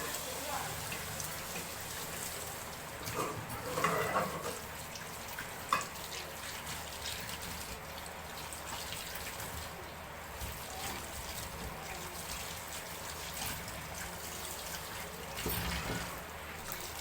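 Tap water runs steadily while fresh tomatoes are rinsed, a broad, even splashing wash with a brief louder surge of clattering near the start and soft handling noises throughout.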